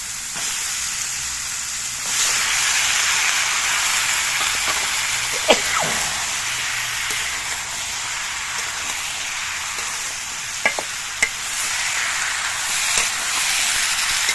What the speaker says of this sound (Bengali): চিংড়ি মাছ দিয়ে আরো একটু সময় আমি কষিয়ে নেব। এবার ঝিঙেগুলো এর মধ্যে দিয়ে দিচ্ছি।